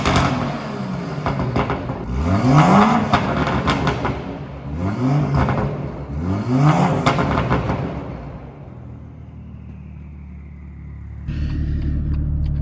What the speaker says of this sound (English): While we wait at this light, let me just do some revs.